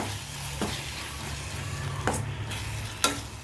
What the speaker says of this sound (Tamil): இந்த தக்காளியை போட்டு நல்லா கொஞ்சம் மஞ்சத்தூளும் போட்டு நல்லா வதக்கிடுங்க